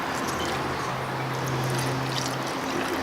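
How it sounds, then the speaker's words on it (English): Water pours slowly and steadily onto a grain bed for homebrewed hazy pale ale, a continuous close trickling rush with a faint low hum underneath. "We're just pouring it nice and slow"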